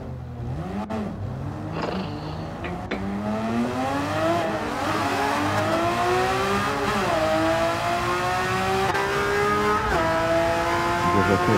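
A car engine in Gran Turismo 7 revs hard through manual gear shifts, pitch climbing and dropping repeatedly as each gear is taken, loud and continuous with no talking.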